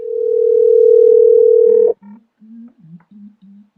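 A loud, steady telephone dial tone holds for about two seconds while a caller is being rung back for a talk show, then cuts off and a voice begins speaking.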